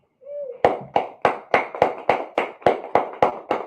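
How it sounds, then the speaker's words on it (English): Slow, steady clapping at an Israelite School of Universal Practical Knowledge gathering for the Feast of Purim in Virginia, about a dozen loud, evenly spaced claps in rhythm, close by, after a brief faint voice. "go ahead and clap it up"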